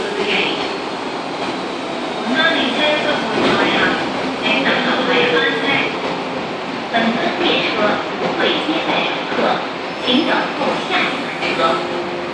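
An MTR Kwun Tong Line M-Train running empty through Ngau Tau Kok station, a loud rumble with clattering wheels and squeals that rises and falls across the whole stretch, with voices and platform noise mixed in.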